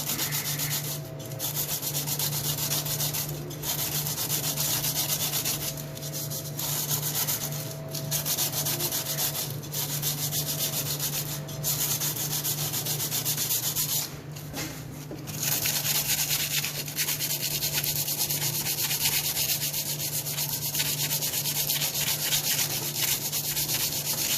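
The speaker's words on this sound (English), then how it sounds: "just going to clean it a bit with some sandpaper. Just roughing it up" Sandpaper scrubbing the secondary clutch of a 1979 Everest snowmobile, a continuous close, loud abrasive rasp with brief pauses between bursts of rubbing.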